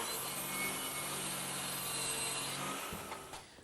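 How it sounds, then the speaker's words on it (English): A wooden table leg is cut to length in a woodshop, with a loud, dense, continuous sawing roar up close that trails off near the end, and no one speaking. "and then cut the other end."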